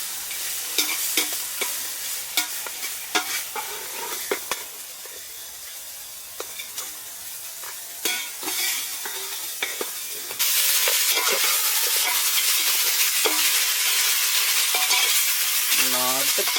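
Pieces of country chicken sizzle and fry in a pan while being stirred. Scraping stirs come first, then a steady close hiss of frying takes over.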